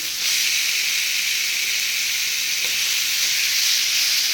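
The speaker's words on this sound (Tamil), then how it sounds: "2 நிமிஷம் நல்லா வதக்கணுன்னா" Spices sizzling in an oiled pan for jasmine chicken, a steady, loud hiss that holds evenly throughout without pause, with no voices over it.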